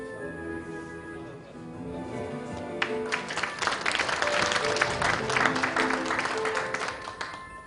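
At an inauguration ceremony of the Korea Horse Industry Promotion Association, the audience breaks into applause, starting as a thin spatter and swelling after a few seconds into full, lively clapping over a sustained musical tone.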